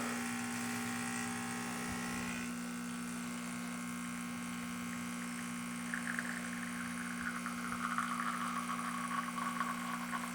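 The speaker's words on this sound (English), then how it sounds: "it's going to start the pump at 50. And it's going to be a slow ramp up" Espresso machine pump on an El Rocio Manus with flow control, a steady low electric hum and buzz slowly ramping up during extraction, with a rising higher whine joining partway through, close and alone.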